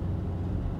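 A 2021 Ford F-150 XL regular-cab pickup engine gives a brief, steady, deep rumble under throttle, fairly loud and close, with no voices.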